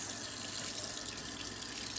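Tap water runs steadily into a sink while a makeup brush is rinsed, giving a continuous close, full splashing rush with no pauses and no talk.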